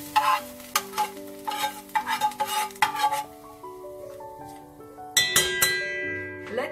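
Onions and garlic in a frying pan, stirred with a utensil that scrapes and clinks against the metal over a soft sizzle, close up, with background music.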